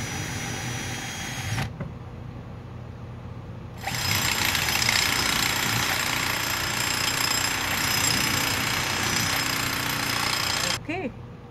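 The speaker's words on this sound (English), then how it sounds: "So let's drill a hole." A drill bores a hole in a propagator lid in two loud, steady bursts, a short one and then a longer run of several seconds, separated by a brief quiet gap.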